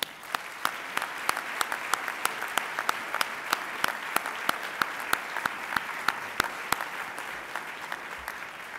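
Audience applause welcoming Dr. Frances Bartlett Kinne, 98-year-old Chancellor Emerita, at the First Coast Business Hall of Fame: steady, moderately distant clapping from a large crowd, with sharp individual claps standing out throughout.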